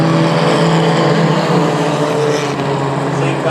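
Mighty Trucks roar around the Star Speedway oval at the start of their main event, a dense, steady engine drone from the field of racing trucks, loud and continuous with no break.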